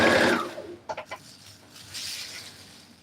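A sewing machine stitches a long jacket in a short, loud whirring burst at the start, followed by a few faint clicks and a quiet, hissing tail.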